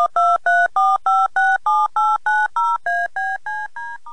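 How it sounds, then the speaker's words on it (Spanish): A rapid series of telephone keypad tones sounds during a radio phone call, about a dozen loud, evenly spaced beeps of varying pitch played alone. "¡Opa! Sonó el teléfono"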